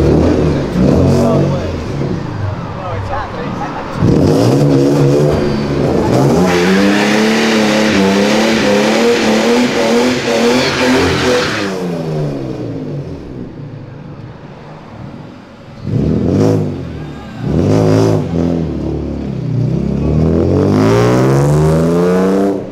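A McLaren sports car accelerating on a street, its engine revving loud and close with rising, sweeping tones, easing off and then revving again in several bursts; people talk nearby.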